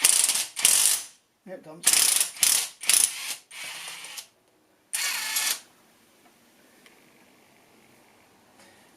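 A ratchet clicks in quick, loud bursts as it undoes a fitting on fuel pipes near the throttle bodies. Several rapid spells of ratcheting stop and start before falling quiet, with someone speaking briefly.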